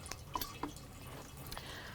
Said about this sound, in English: or pour it into the water like this